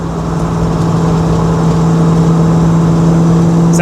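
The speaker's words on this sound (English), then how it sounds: "The supercharger sounds sick." A steady, loud engine drone with a strong low hum and a high whine, holding at a constant rev throughout.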